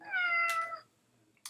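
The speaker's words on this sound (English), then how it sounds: "In here, I have a sound cat meow." A single drawn-out cat meow, clear and close, fading into quiet with a brief soft noise at the end.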